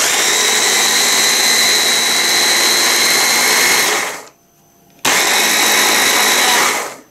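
A REDMOND RHB-2967 immersion blender with its chopper attachment runs on turbo, re-chopping carrots with a loud, steady high-pitched whir. It cuts out for about a second, then starts again at full speed.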